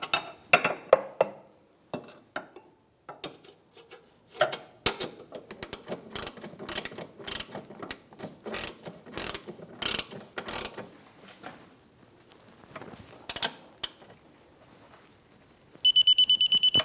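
A 17mm socket and wrench tighten the rear upper control arm bolt on a 2013–2018 Toyota RAV4, with a close, rhythmic series of sharp ratchet clicks that speed up midway, followed by a brief loud rattling burst at the end.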